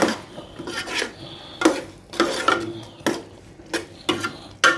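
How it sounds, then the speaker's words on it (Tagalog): Frozen and canned vegetables with fish balls and kikiam are stirred in a pan, the utensil scraping rhythmically against the metal. About a dozen close, loud strokes repeat at a steady pace with no talk. "Haluin naman po natin."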